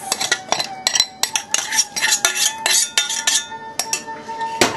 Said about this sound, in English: all we need to do is stir our dal, add our tarka, just like this.